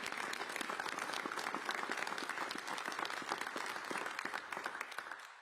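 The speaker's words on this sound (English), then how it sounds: "an applause for that." A crowd applauding steadily at a mayor's infrastructure and jobs announcement, dense clapping holding for several seconds before tapering slightly at the end.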